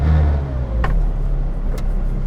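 Inside the cabin of an 800-horsepower McLaren Senna, a loud engine drones and rumbles up close, with a couple of brief sharp clicks over the steady roar.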